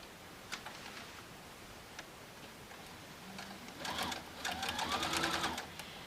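A sewing machine stitches a quilted placemat tote bag with a soft, steady mechanical whir and fast rhythmic clatter, quiet and close and building slightly toward the end.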